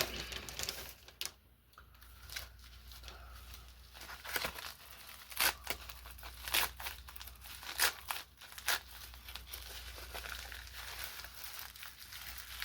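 Quiet crinkling and rustling of a plastic bag being crumpled and handled, with irregular bursts of crackling against a soft background.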